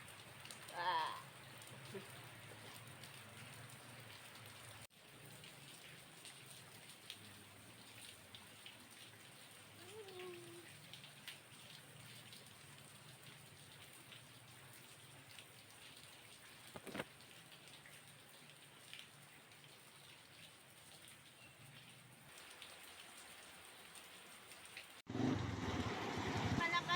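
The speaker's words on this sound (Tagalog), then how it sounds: "Malakas ang ulan mga wow." Heavy rain falls in a steady, quiet hiss, with scattered drops striking nearby surfaces, a brief faint voice partway through and a louder burst near the end.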